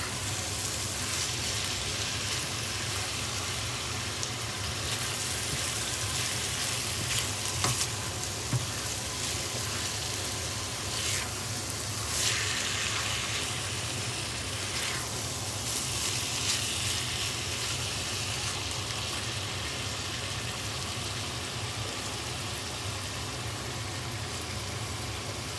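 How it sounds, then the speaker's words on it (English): Chicken pieces stir-fried in a pan for a low-carb Asian soup stew give a steady, even sizzle throughout, close and moderate in level, with faint scrapes of stirring and no talk. "I need to get this chicken brown, so I've got to keep stir frying until it's brown"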